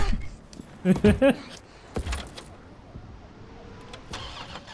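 A car engine cranks and turns over in the Resident Evil video game, a short burst of starter sputters followed by a low rumble, with some talk and scattered clicks around it.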